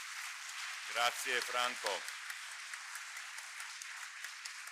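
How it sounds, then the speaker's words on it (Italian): An audience claps for the guests at the close of a dialogue on Dante's Inferno, a sustained wash of applause that carries on after someone briefly speaks over its start. "facciamo nuovamente un applauso ai nostri ospiti e un applauso a tutti"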